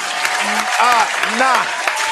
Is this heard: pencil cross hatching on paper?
no